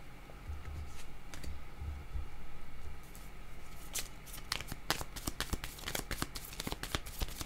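Tarot cards being shuffled and drawn by hand, a steady papery riffle and flutter followed by a burst of sharp card snaps and flicks, close and alone with no talk.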